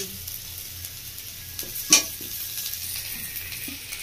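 Boiled potatoes stirred into sizzling turmeric in a frying pan, with a soft steady fry hiss throughout and one brief clack of the spoon midway, close and alone.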